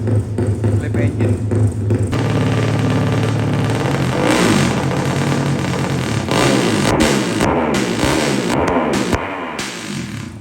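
Loud racing motorcycle engines, including Kawasaki Ninjas, rev and roar repeatedly nearby, the throttle blipping up and down in bursts, with voices faintly in the background.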